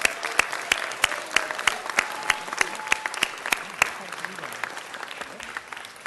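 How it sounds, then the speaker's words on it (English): Applause from a city council meeting audience honoring a high school academic decathlon team, with sharp individual claps standing out over a steady patter that continues for several seconds before thinning slightly toward the end. "Let's give them a big round of applause"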